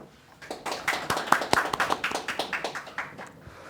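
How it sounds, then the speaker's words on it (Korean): A small audience at a tax forum claps to welcome a law professor, a short burst of distinct, fairly close hand claps that builds quickly and then settles into a loose rhythmic patter before fading. "이동식 교수님께 박수로 맞이하겠습니다"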